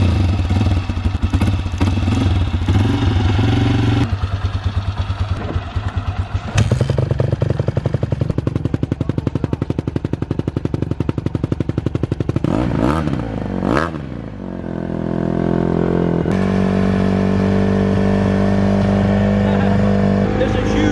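Honda CRF150 dirt bike cold start: the engine catches with loud rapid popping and clattering, revs up and settles into a rough, uneven idle close to the listener.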